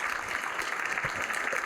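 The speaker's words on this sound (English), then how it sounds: "so if we give them a round of applause." Audience applause for a sponsor at a free community event, a steady wash of clapping at moderate level that holds throughout a short stretch.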